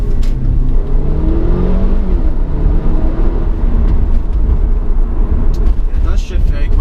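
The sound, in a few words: Mercedes CLA250 accelerating with paddle shifts, dual-clutch gearbox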